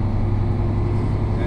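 Truck engine fitted with Bosch Servotwin steering, restarted and idling steadily, a low continuous rumble filling the whole moment with no pauses.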